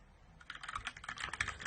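Rapid clicky keystrokes on a Blitzwolf BW KB1 mechanical keyboard, a quick close-up burst of typing that grows louder after a quiet start.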